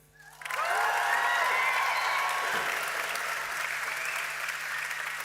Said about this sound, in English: it's not just about a huge round of applause